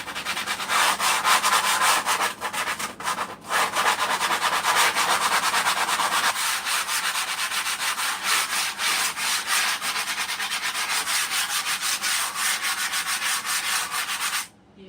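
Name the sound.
sanding wood flooring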